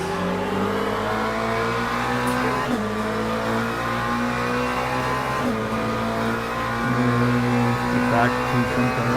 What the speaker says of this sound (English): These are 2 McLarens.